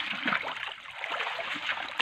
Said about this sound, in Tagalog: Ayan po ang ating mga crystal water sa barangay.